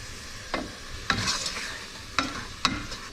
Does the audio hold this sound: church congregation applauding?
no